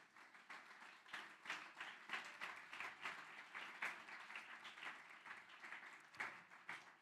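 A church congregation applauds during a Spanish-language sermon, an uneven crowd of hands clapping in quick bursts that swell and dip, moderately close but soft.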